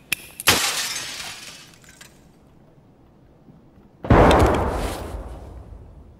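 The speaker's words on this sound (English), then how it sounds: "We could chuck a grenade out a window." In the shooter game Escape from Tarkov, a window pane shatters loudly with a sharp crash and a long tinkling decay, followed a few seconds later by a heavy booming blast as the grenade thrown through the window goes off.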